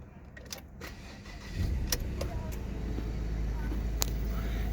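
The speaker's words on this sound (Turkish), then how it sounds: "ben bir aracı çalıştırayım" A 2016 Ford Ranger Titanium is started from inside the cab: a few key jangles and clicks, then the engine catches about halfway through and settles into a steady, low, close idle rumble.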